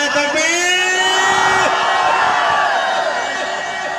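A large crowd at a Shia religious gathering in Khairpur shouts back in unison, a loud sustained roar of many voices answering a chanted Naara-e-Takbeer slogan, dense and continuous throughout.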